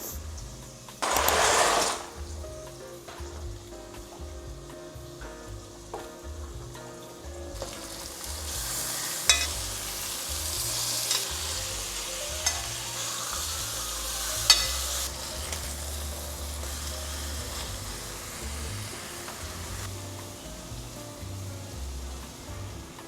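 Chicken pieces frying in a pan for Cajun pasta, a steady close sizzle and crackle throughout, with a brief loud hiss near the start and a few sharp spatters and clinks along the way.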